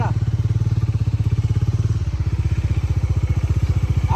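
A motorcycle idles close by at night in a village, its engine thumping out a fast, even pulse. The beat holds steady and loud, and the rhythm changes slightly midway.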